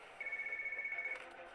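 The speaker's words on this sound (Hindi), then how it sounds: "सोफिया, तुम ALX ऑफिस को फोन करो" Office telephone ringing, a close electronic trill with a steady pulsing rhythm that sounds once and then stops.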